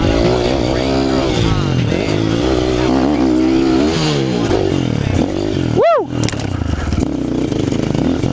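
Motocross motorcycle engine revving and shifting continuously on a dirt track, loud and close throughout, with harmonic pitch rising and falling as the rider accelerates and turns, and a brief sharp whoosh near the end.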